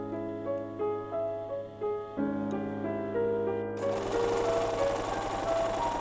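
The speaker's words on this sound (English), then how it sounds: "And I sewed some more." A domestic sewing machine stitches a dress neck hem in short bursts of whirring, then settles into a longer continuous run that grows louder and busier, close by with no voices.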